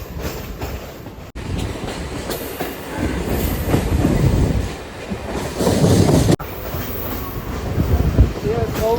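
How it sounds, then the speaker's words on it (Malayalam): Inside a moving train in Mumbai, a loud continuous rumble with rhythmic wheel clatter and some metallic screech, swelling and easing over several seconds. "ഒരുപാട് നാളുകൾക്ക് ശേഷമുള്ള ഒരു ട്രെയിൻ യാത്രയാണ്."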